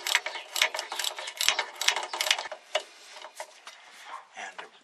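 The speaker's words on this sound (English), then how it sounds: "You might have even heard a little tick as it came loose." Small metallic ticks and clicks as a seized wheel cylinder part on an old car breaks loose from galled threads, a dense run of light ratcheting taps close up that thins out toward the end.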